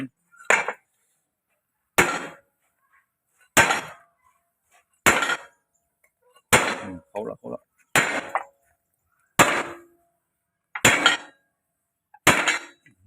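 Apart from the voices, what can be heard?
hammering a chain pin with a hammer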